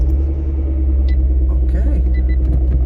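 A 2008 Honda Civic Si FG2 idles after a cold start at 22°F with a battery reading 11.7 volts, a loud, steady low rumble that holds even throughout, with faint clicks and shuffling nearby.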